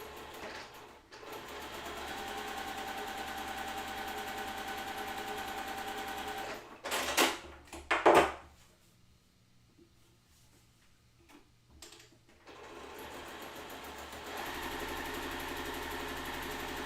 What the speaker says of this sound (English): I'm going to go take this to the machine and sew on the drawn line